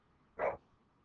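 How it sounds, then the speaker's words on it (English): A single short dog bark, fairly close and clear, standing out against a quiet background. "somebody's here, the dog's barking."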